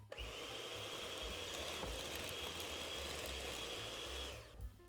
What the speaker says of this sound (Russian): Берем миксер и все это аккуратненько взбиваем.